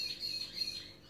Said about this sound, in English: You probably hear a lot of birds right now because they're like everywhere outside.